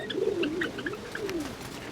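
A brown and white pet pigeon coos close by, a soft, rolling low call repeated twice in the two seconds, with faint chirps from other birds in the background and no talking.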